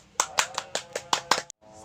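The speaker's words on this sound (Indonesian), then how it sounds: "Tepuk tangan semua." A classroom of pupils clapping together, a short burst of scattered claps for about a second and a half before it cuts off abruptly, with a little chatter underneath.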